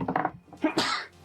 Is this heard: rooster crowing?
no